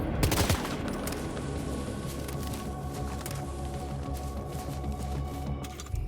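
Gunfire in the game Death Stranding 2, a dense burst of rapid automatic shots at the start, then a sustained rumbling in-game soundscape with a few scattered sharper cracks, loud and without speech.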